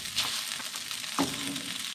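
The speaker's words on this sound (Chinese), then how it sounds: "翻炒一下。" Garlic, ginger and minced silverfish stir-fried in a wok, a steady broadband sizzle with a brief scrape of the spatula midway, close and continuous throughout.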